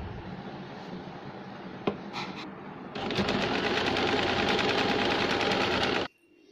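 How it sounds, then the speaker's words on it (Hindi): A sewing machine runs a straight seam while stitching a dhoti salwar, first in a short burst with a pause, then a steady, loud run of rapid needle clatter for about three seconds before stopping abruptly. "इस तरह से सीधी सिलाई लगाएंगे।"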